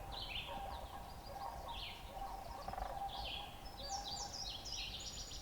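Sandhill cranes call from a distance near a trail at Cape Chin North on the Bruce Peninsula, with faint, rolling, bugling cries repeating over soft outdoor ambience.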